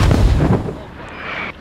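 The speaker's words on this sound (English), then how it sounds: "Take cover, mortar's incoming." Incoming mortar fire in a US Army Afghanistan military shooter game, a loud heavy boom that rumbles and decays over a second and a half, close and alone.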